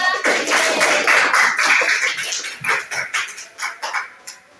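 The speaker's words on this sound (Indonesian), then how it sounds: "Tepuk tangan untuk kita semua." A class of students in an Islamic religious education lesson claps together, starting as a dense burst of applause and thinning into scattered separate claps that fade toward the end.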